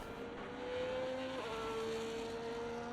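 An F1 race car in a Mexico racing video game drives into the pits, its engine a steady droning whine that drops in pitch partway through, holding a constant moderate level.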